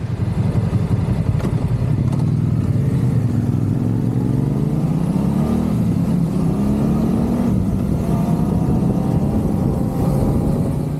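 Yamaha Tenere 700 motorcycle fitted with a Dominator exhaust, running loud and close with a deep steady drone and rising revs as it accelerates, no talk.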